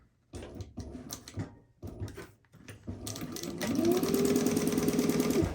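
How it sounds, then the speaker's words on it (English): A sewing machine stitches around a painted fabric zip pouch, with short stop-start runs of close, fast mechanical whirring that settle into one longer continuous stretch of steady stitching. "And sew all the way around."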